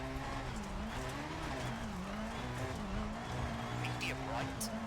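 Rally car from EA Sports WRC driving with a steady engine drone whose pitch wavers up and down, tyre and gravel noise beneath, and a voice talking over it throughout.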